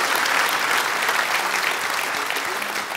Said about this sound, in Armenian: Ծափարությունների ներքո։